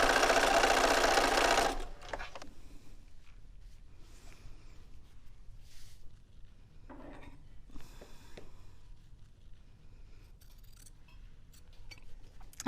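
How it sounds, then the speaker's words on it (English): A sewing machine runs in a loud, fast, steady burst stitching yellow quilt fabric for under two seconds, then stops, leaving soft handling rustles and small clicks. "I'm going to sew this yellow in here"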